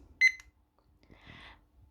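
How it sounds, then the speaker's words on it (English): A kitchen timer set for a stovetop custard gives a short bright electronic beep, followed by fainter clicking as it is set, in an otherwise quiet room. "put a timer for around 20 minutes."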